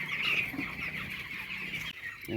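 Brooder chickens in a poultry shed, with the flock suffering from pneumonia, cluck softly and repeatedly against a constant background hum of the shed.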